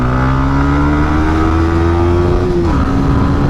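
A 2020 Yamaha MT 125 motorcycle accelerates hard, its engine note climbing steadily in pitch, then dropping briefly around a gear change before picking up again, loud and close throughout with no talking.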